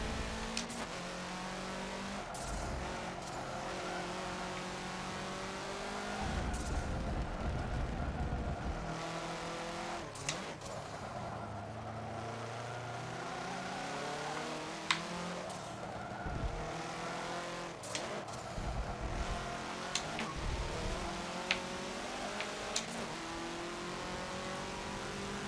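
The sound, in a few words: Alfa Romeo 33 race car engine, Forza 7 video game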